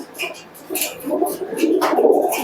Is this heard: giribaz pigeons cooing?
yes